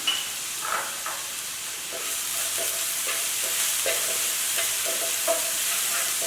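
Green chili frying with ginger and garlic in a pan, a continuous hissing sizzle with soft scraping stirs at intervals, close and moderately quiet, no voices.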